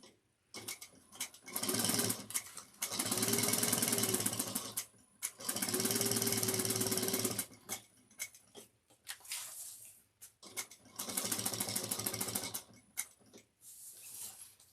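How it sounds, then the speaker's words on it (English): A sewing machine stitches a shoulder bag in several bursts of rapid, even mechanical chatter separated by brief pauses and small clicks, close and fairly quiet without speech. "to give it a nice positive reinforcement stitch"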